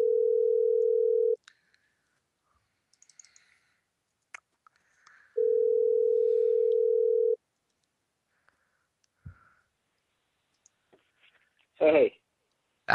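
A telephone ringback tone sounds twice as long steady buzzing pulses during a radio interview call, separated by silence and a few faint clicks, then a short burst of a voice picking up near the end.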